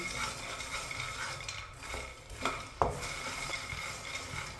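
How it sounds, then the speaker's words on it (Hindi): Fox nuts (makhana) roast in a pan while being stirred, a steady dry rustling and scraping with a few louder knocks of the spoon against the pan near the end, close and alone. "फूल मखाने को हल्का सा ब्राउन कर लिया मैंने।"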